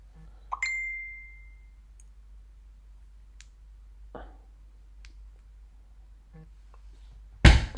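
A short bright phone notification ding near the start that rings and fades, followed by scattered faint clicks and ticks, then a sharp clunk at the end in a quiet room.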